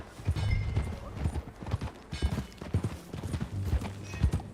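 Horse hooves clip-clop at a riding pace in Red Dead Redemption 2, a rhythmic run of close, clear thuds with a brief whinny in the mix.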